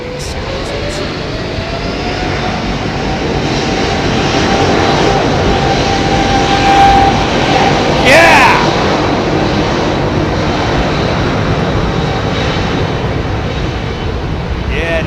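Airbus A380 with Rolls-Royce Trent engines roaring at Heathrow, a loud sustained jet rumble that swells gradually and peaks midway, with a brief whine sweeping across as it passes close by.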